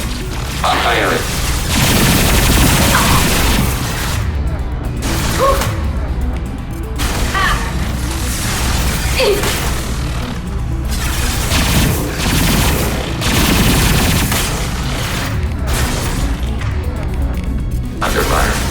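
Weapon fire in Mass Effect booms and rattles continuously at high volume, with heavy blasts recurring every few seconds over dense battle noise and talking.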